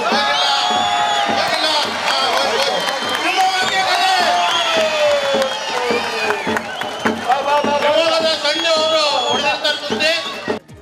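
Spectators at a kusti wrestling bout in Shivamogga's Nehru stadium whoop, yell and cheer loudly in a dense crowd roar, with shouting voices rising and falling over the full stretch.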